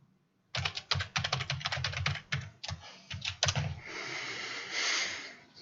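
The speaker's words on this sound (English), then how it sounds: "you're going to hear some typing over here as we get things rolling" Fast, close typing on a computer keyboard in a classroom: irregular bursts of clicking keystrokes, then the clatter gives way to a softer, steady hissing noise.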